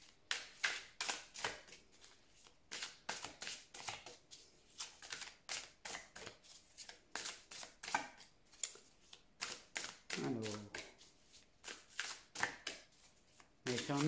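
Oracle cards being shuffled by hand, a rapid series of crisp riffling snaps and slaps repeating throughout, close and clear, with a voice speaking now and then.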